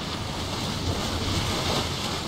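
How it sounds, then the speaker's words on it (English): Big ocean waves surge in the Sail Sim 5 sailing game, a steady broad wash of surf and wind noise with no clear breaks. "there's kind of big waves through here"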